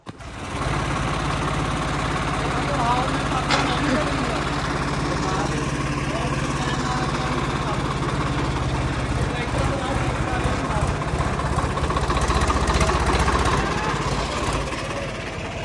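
A motor scooter engine runs steadily at idle, a continuous buzzing putter close by, with faint voices and clatter around it.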